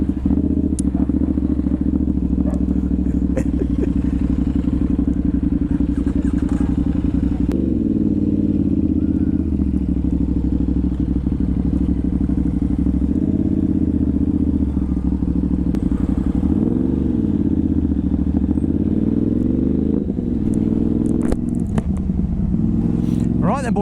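A Ducati Hypermotard 950 SP fitted with an aftermarket exhaust and ECU tune is ridden, its engine droning loudly and continuously, with rises and dips in revs and occasional clatter and rattle along the way.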